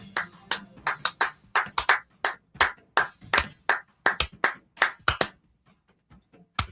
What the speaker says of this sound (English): It's not an enthusiastic enough clap over there.